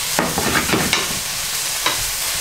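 Wild plantain and cleavers greens cooking in a pan, a continuous close sizzle broken by several sharp stirring scrapes and knocks.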